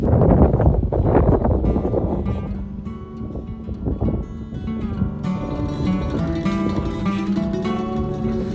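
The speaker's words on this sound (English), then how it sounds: "it's pretty windy out here." Steady wind roaring and buffeting against the microphone outdoors in Zion National Park, strongest at first, with a continuous low rumble and some tonal hum later.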